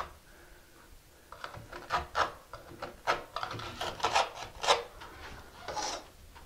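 Grout or thinset is raked out from between mosaic tiles on a shower ceiling in a run of short, gritty scraping strokes, close and fairly quiet, with irregular rhythm and brief pauses.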